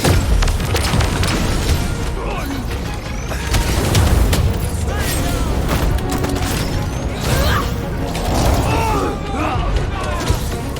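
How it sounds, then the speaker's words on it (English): Explosions and booming blasts from combat in Marvel's Guardians of the Galaxy on PS5, with dense rumbling impacts and mechanical clatter continuing throughout, loud and close, under in-game character voices. "The explosions will herald our approach!"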